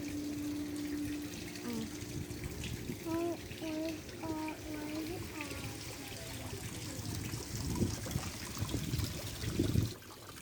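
Water trickles and splashes steadily over rocks in a small waterfall in Negril, Jamaica, while voices chatter faintly in the background.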